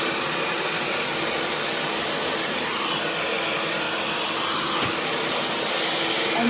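A handheld hair dryer blows steadily during a home blow-dry, its broad airy roar constant and close for the whole stretch with no talking.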